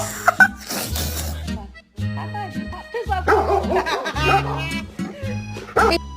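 Dog barking and yipping at close range in repeated short bursts, with quieter grumbling between, in a snowy outdoor spot; someone talks and chuckles over it.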